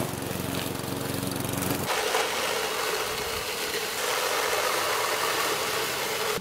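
A Lawn Boy 10739 AWD walk-behind mower cuts through thick, overgrown Bermuda and Dallis grass with a loud, close, continuous engine drone that shifts in pitch as the load changes. No speech.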